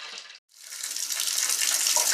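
Water running from a tap into a newly installed bathtub drain, a loud close steady gush that breaks off briefly and then resumes, rising to a full, continuous rush with no talk.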